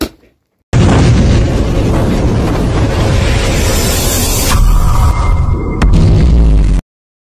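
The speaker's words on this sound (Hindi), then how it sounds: "अब आतिशबाजी का वक्त है" Continuous crackling and booming of fireworks bursting overhead at the Zinda Shah Madar Urs 2024 at the dargah, loud and dense, with heavy low thuds and sharp pops filling several seconds before cutting off.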